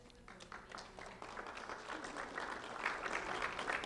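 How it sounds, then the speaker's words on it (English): Audience applause at a recognition ceremony, quiet, steady clapping from a room of people that builds slightly and stays soft and continuous, heard from some distance. "A round of applause for Innocence."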